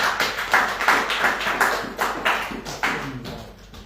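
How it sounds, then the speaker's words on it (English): Clapping from a small audience at a book launch during a bookfair: a handful of distinct, fairly close claps in a loose, uneven rhythm that thins out toward the end. "give a big round of applause for Johara Sheikh."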